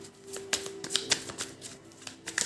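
A deck of tarot cards is shuffled close by, giving soft papery riffles and flicks in uneven bursts with sharper snaps, over a faint steady hum and without speech.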